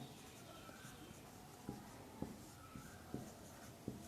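Writing during a chemistry lesson, a series of about five soft tapping and scratching strokes at an uneven pace, faint and close under a quiet room background.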